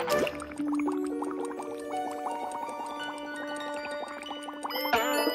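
Bubbling water sound effect from a children's cartoon about boats moving through water, a busy run of gurgling, dripping pops lasting a few seconds with a brief louder burst near the end.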